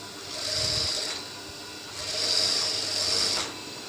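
A sewing machine runs in two steady bursts while stitching a kameez sleeve, a continuous whirring hum that starts, pauses briefly, then resumes for a second run.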